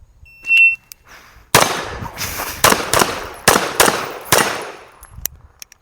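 Rapid series of loud, sharp gunshots from a practical shooting gap drill, about seven reports in uneven bursts with short pauses between them and no talking.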